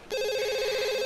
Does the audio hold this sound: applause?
no